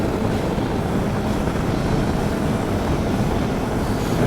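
A 2025 KTM 390 Adventure carrying a pillion cruises at 110 km/h on an open road, with a loud, steady roar of wind rush over a low engine drone that never lets up.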